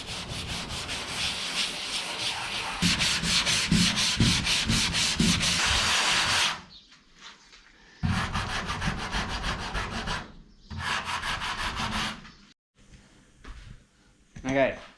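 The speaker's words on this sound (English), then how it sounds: "give them a bit of a sand for the key for the bog to stick to" Hand sanding of body panel pieces on a 1951 Chevy with 150-grit paper, brisk rhythmic rasping strokes in bursts separated by short pauses, close and clear, with some quiet talk.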